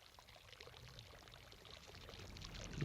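A person urinates into a river, a steady pouring trickle of liquid into water that swells louder toward the end, heard close by with no talking.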